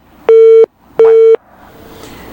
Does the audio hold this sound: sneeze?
no